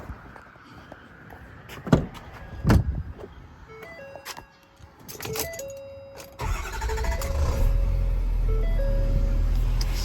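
A 2011 Ford F550 4x4 mechanics service truck with crane and compressor starts up after a few door and switch clunks, its engine catching and settling into a steady, loud, close idle.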